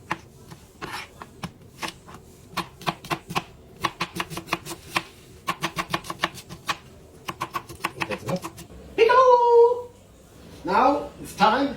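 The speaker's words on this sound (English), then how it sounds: "We're just gonna cut it in small cubes." A knife chops a tomato into small cubes on a board, making quick, close, rhythmic taps in several bursts. Near the end a voice speaks and other sounds join in.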